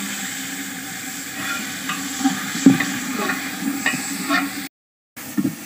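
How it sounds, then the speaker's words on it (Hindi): Chicken browning in a spice masala in a home kitchen, with a continuous sizzle broken by scraping stir strokes and brief clatters, close and fairly loud, cutting out briefly near the end before resuming. "चिकन ब्राउन हो रहा है"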